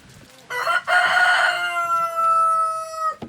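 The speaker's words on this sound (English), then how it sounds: "I apologize for the chickens and the rooster and guineas." A rooster crows loudly and close by in one long drawn-out call, with faint chicken clucking and guineas in the background.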